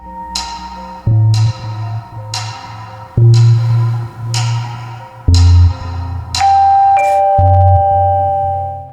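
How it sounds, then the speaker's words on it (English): A doorbell chimes repeatedly, a series of loud, ringing tones struck one after another with lingering decay between them. "the doorbell rang."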